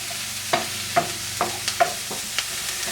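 Peppers, onions and garlic sizzle in a hot pan under a soft continuous hiss, as a spoon scrapes through them in about six sharp, evenly spaced strokes.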